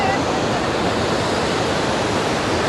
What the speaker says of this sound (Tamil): பயங்கரமாக வழுக்குதுங்க தண்ணி. எவ்வளோ ஃபோர்ஸாக வருது பாருங்கள்